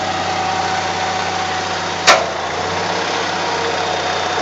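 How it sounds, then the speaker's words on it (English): A boom truck's 3-phase electric motor drives its cable and chain with a steady, close, loud humming drone, broken by a single brief click midway. "That's a 3-phase electric motor running the cable, chain and everything."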